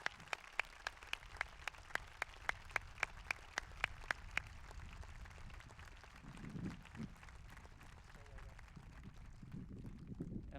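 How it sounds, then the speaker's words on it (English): A commencement crowd at Hope College applauds a retiring professor honored for years of service, beginning with a few sharp, distinct claps in a quick rhythm that give way to quieter, softer clapping and low murmuring sounds. "Dr. Portfleet, please rise and accept our applause for your years of service to Mortarboard."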